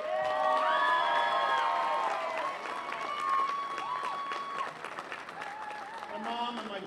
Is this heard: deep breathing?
no